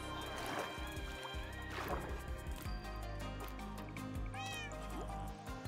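A cat meows in a farming and building video game, several rising meows standing out over a continuous bed of game music and ambient water sounds.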